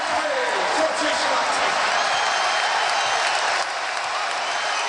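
A basketball arena crowd at a Maryland at Ohio State college game roars and applauds in a dense, continuous wash of noise, steady and loud, with a commentator talking over it.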